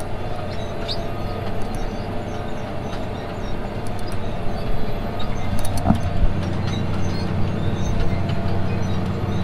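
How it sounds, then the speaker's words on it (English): A tractor pulls a chisel plow through a slick, muddy field in spring tillage, giving a steady, loud low-pitched engine drone with rattling and clanking over it, continuous throughout. "Chisel plow's doing a good job here"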